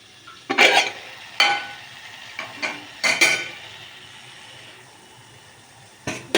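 Mutton curry stirred in a pot, with a few sharp scrapes and clanks of a ladle against metal that come in bursts, separated by quieter gaps, and one more scrape at the end.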